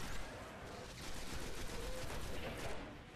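Rapid gunfire from a weapon in the video game Destiny, played on Xbox One during a Mars patrol, sounding as dense, sustained bursts over a steady background of game effects.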